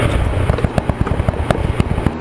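A Mini John Cooper Works roadster's exhaust crackles and pops on overrun while descending a hill, a rapid irregular string of loud close sharp bangs over a rumbling engine note.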